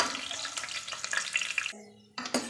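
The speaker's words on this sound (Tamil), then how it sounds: "பூண்டை நல்லா ரோஸ்ட் பண்ணிக்கலாம் ஃப்ரெண்ட்ஸ்" Halved garlic cloves roasting in a hot pan give off a steady frying sizzle with occasional stirring scrapes, which break off near the end into a few short clinks.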